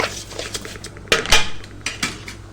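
A spoon scrapes and clinks against a cooking pot while stirring beef broth with a stock cube and salt, a few sharp metallic knocks among softer scraping, close up with no talking.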